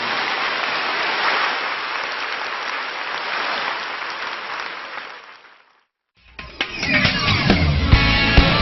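Church congregation applauding in praise during a Korean sermon: sustained, dense clapping for about five seconds, fading to silence, then a voice resumes talking.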